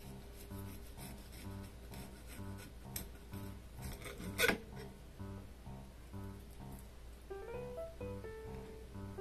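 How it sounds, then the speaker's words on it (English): A knife rasps and scrapes as it cuts a long, thin barracuda fillet along the vertebra toward the tail. The strokes are quiet, close and repeated, with one brief louder scrape, and no one speaks. "Place the knife just above the vertebra and cut all the way to the tail."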